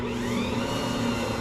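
A KitchenAid stand mixer runs continuously while mixing gluten-free vegan chocolate chip cookie dough, a steady close motor whir with a slightly labored, rumbling texture and no pauses.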